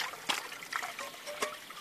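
Water trickles and dribbles quickly into a small woodland spring, a soft continuous babble with a few brighter splashy bursts, faint and close.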